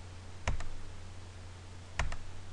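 Two quick double clicks of a computer mouse, spaced about a second and a half apart, each a sharp close pair of taps over a faint steady hum.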